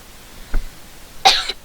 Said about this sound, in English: sorry about the cough